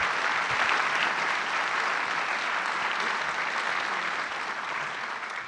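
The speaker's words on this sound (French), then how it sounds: "Merci pour vos applaudissements." Audience applause filling a conference hall at a French hospital federation meeting, steady and dense clapping throughout, moderately loud, with no talk over it.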